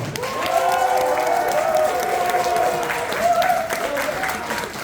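A wedding crowd claps steadily in sustained applause, with a voice speaking through it and the clapping swelling slightly near the end.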